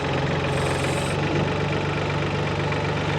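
A Solis 26 mini tractor's small diesel engine idles steadily, a low throbbing drone with even knocking pulses, running unrevved while the front loader lifts. The sound is close and continuous, with no voices.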